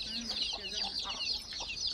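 Free-range village hens on a farm give repeated soft clucks across a steady outdoor background, fairly near, with faint voices at times.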